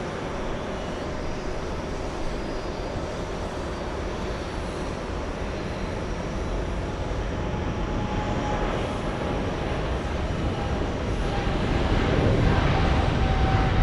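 Qatar Airways Boeing 777 taking off from JFK airport, a steady, loud jet engine roar that builds slightly toward the end, broad rumbling noise filling the scene with no voices.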